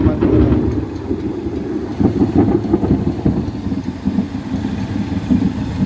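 A Honda Supremo 150 motorcycle engine runs steadily after a stator winding replacement, giving a close, low rumbling idle that lasts throughout with slight surges.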